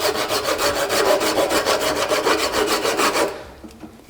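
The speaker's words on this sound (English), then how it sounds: "you could saw it like this" A hand saw cuts a wood block resting on a lathe in fast, even rasping strokes, loud and close, which stop abruptly near the end as the cut finishes.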